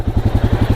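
Royal Enfield Himalayan motorcycle engine running close by, a rapid even low thumping pulse at steady idle, loud and alone without talk.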